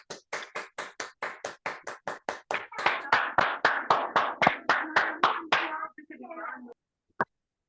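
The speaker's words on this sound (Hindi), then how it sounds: "इन लोगों के लिए एक जोरदार ताली अपने हाथ से कर सकते हैं" Clapping from an audience on a Zoom call: around twenty sharp, evenly spaced claps in a quick steady rhythm, growing slightly denser, then a brief softer patter and one last lone clap.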